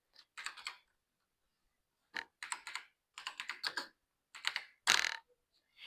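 Keys clatter on a computer keyboard as Python code is typed, coming in short separated bursts of quick, close clicks with brief silent pauses between them.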